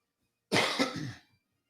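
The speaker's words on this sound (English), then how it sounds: "As I clear my throat." One brief, close throat clearing, a harsh rasp breaking in after silence and trailing off within a second.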